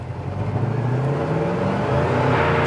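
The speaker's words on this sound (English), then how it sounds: "Spinning the tires." A 1968 Chevelle SS convertible with a positraction rear end accelerating hard while spinning its tires, a steady, loud engine roar that builds slightly in intensity, with no talking.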